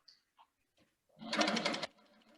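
A Handi Quilter Sweet 16 sewing machine runs in cruise mode at 9 stitches per inch, giving a short, steady whir of rapid stitching that lasts under a second after a few faint clicks and handling sounds.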